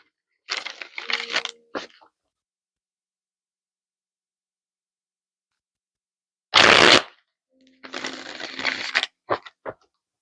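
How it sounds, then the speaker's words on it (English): A deck of Shadowscapes Tarot cards is shuffled by hand in three close bursts: a riffling stretch early on, a short sharp snap midway, then another longer run of crisp card flutter, with silence between. "One more shuffle."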